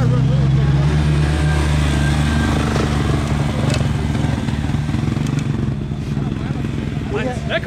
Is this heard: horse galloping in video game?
no